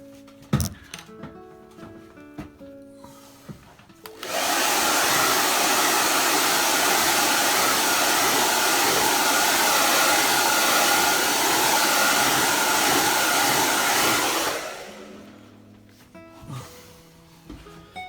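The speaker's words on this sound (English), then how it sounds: "I'm going to dry that off with the hairdryer." A hair dryer roars steadily for about ten seconds, loud and close, switching on abruptly and then winding down, with faint handling noises before and after.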